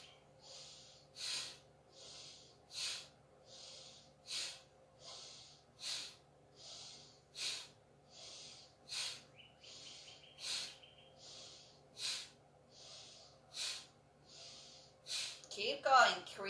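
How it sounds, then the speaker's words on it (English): Slow, even nasal breaths during an alternate-nostril breathing exercise, inhaling through the left nostril and exhaling through the right, a soft breathy hiss rising and falling in a steady rhythm about every 1.5 seconds, close and clear over a faint hum. "Inhale left, exhale right."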